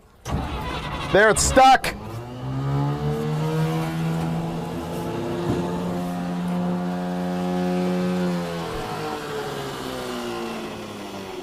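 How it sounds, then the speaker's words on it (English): A car's starter motor cranks the engine over with a steady, droning whir that holds for several seconds after a short clattering start, while people talk briefly over it. "They cranked over, dude. Yeah, it did. Cranked good. Starter works well."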